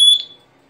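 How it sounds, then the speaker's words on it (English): A small sealed-battery smoke alarm gives a single sharp, piercing test beep that cuts off quickly into near silence. "So I got this little fire alarm."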